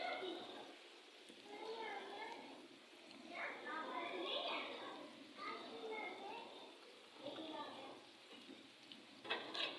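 Kebabs frying in a pan, a soft sizzle under someone talking near the mic, with small stirring and placement sounds breaking in now and then.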